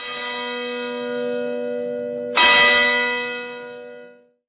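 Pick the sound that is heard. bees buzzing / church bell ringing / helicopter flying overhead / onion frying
church bell ringing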